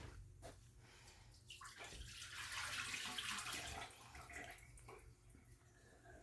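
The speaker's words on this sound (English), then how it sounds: "This is also where you dump the water off your potatoes." Water drained off boiled potatoes pours in a soft, close rush that swells in the middle and tapers into light dribbles, faint overall.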